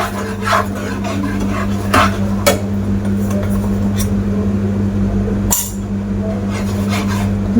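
Rice flour is stirred into melted sugar in a pan, making repeated scraping and rasping strokes with occasional utensil clinks over a steady low hum, close and fairly loud.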